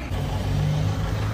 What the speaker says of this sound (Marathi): इथे खूप ट्रॅफिक आहे.